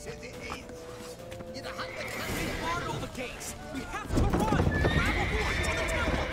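A horse in a video game whinnies loudly while its hooves clip-clop steadily, the hoofbeats growing heavier and closer in the last couple of seconds.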